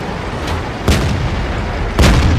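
Tank cannon fire in the video game World of Tanks, heavy booming shots over a constant rumbling battle background, two sharp loud blasts about a second apart.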